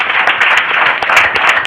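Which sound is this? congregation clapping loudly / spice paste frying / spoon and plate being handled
congregation clapping loudly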